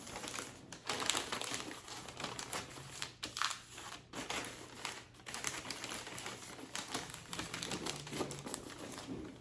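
Crisp, close crinkling and rustling of wrapping paper as it is folded around a Christmas gift, in irregular bursts of crumpling and sharp creases with brief pauses.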